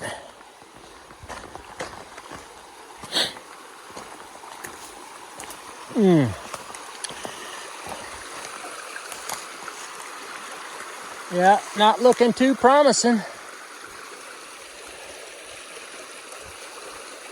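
A river on the Appalachian Trail, with beaver work nearby, rushes in a steady wash of flowing water throughout, while someone speaks briefly and a few louder splashy and whistling sounds pop up near the middle and end.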